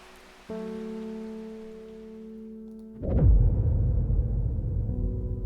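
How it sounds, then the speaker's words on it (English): Rain in the video game Strange Horticulture: a steady hiss of rainfall under a sustained tonal drone, then a heavier low rumbling wash of rain and thunder-like roll swells in for the final seconds, fairly loud. "Let's hope that it gets rid of this rain."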